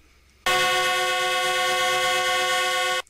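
A passenger train on a test run from Iju in Lagos to Abeokuta sounds one long, loud, steady horn blast of about two and a half seconds, close by, with no talk.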